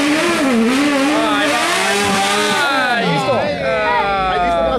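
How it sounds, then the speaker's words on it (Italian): Engine of an off-road 4x4 in a PS3 driving game revving up and down, its rising and falling whine loud and continuous with occasional tire squeal, while people talk over it throughout. "Guarda che motore ha."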